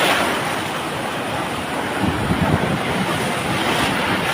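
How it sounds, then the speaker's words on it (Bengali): Waves driven by Cyclone Remal roar as a dense, continuous wash of surf, loud and close, with slight swells in strength and no voices. "ঢেউ কাকে বলে দেখেন"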